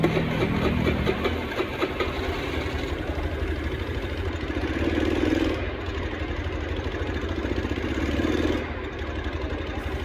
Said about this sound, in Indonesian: Langsung kita kontakkan saja kunci kontaknya, kita coba.